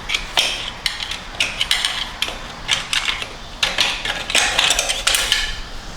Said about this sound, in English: get that giant snap ring that the Dodge likes to use out of the transmission